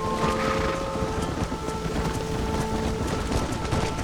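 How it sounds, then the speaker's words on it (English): Rain pours steadily during a thunderstorm in the video game Red Dead Redemption, a constant hiss with low rumbling thunder and sustained tonal notes running through it. "The weather changes fast out here. This storm came out of nowhere."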